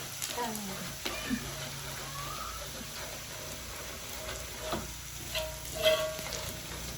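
Chili paste sizzles and crackles in a hot wok over twenty years old, with a few scraping stirs, while a voice talks intermittently over the frying.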